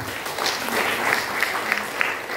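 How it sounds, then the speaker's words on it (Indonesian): Church congregation applauding during a Good Friday sermon, a steady dense wash of clapping at moderate level with a few sharper individual claps standing out. "Tepuk tangan kepada kita."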